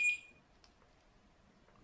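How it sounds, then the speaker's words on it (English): A continuity tester gives one short, sharp electronic beep while probing Toyota Corolla E11 wiring harness wires during a 4AGE 20V engine swap, followed by near silence. "let's look at wires of the same color and see which ones beep"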